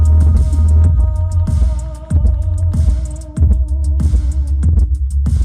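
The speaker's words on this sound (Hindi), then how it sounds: "मैक्सिमम बेस लेके जाता हूँ" A GOVO GoSurround 1008 Pro 5.2-channel Dolby soundbar with dual 6.5-inch woofers plays a song at maximum bass, heavy rhythmic low-end beats pounding under melody and vocals, loud and close throughout.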